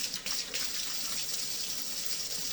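Hands washed under a steady stream of running tap water at a kitchen sink during burger preparation, a continuous close hiss and splash with no talking.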